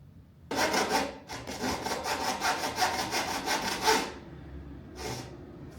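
Small hand saw cutting wood for a window cornice, close rhythmic back-and-forth rasping strokes in a quick steady run, then a pause and one last short stroke.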